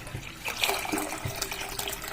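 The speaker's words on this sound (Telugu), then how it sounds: "నేను కొన్ని వాటర్ యాడ్ చేసుకుంటున్నాను." Water is poured into a cooking pot of tomatoes, onions and tamarind broth for horse gram soup, giving a close, steady splashing flow with small gurgles over about two seconds.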